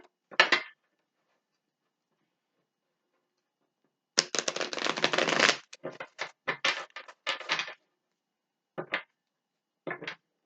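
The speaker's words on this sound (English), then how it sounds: "One shuffle." Tarot cards are shuffled by hand at close range, with a brief riffle, a pause, then a longer crisp flurry of card slaps and a few scattered taps.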